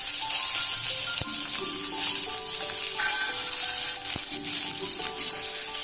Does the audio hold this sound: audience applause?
no